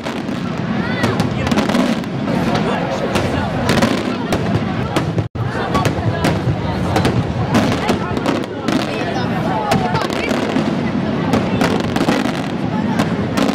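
Festa fireworks bursting over the Tarxien village feast in Malta, a dense, continuous barrage of loud cracks and booms with a crowd murmuring beneath, filling the whole stretch apart from one brief gap.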